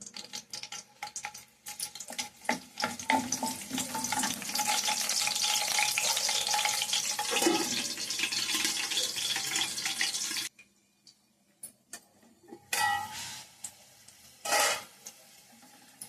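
Green chilies hit hot oil with a loud, dense frying sizzle that runs steadily for about ten seconds, then cuts out. A few shorter bursts of sizzling and stirring follow, with no talking.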